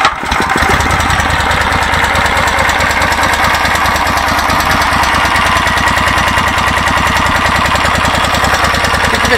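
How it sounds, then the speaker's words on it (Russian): A Neva walk-behind tractor engine runs close by with a loud, rapid, even chugging beat that holds steady the whole time after a brief start, and no one talks over it. "заводим мотоблок."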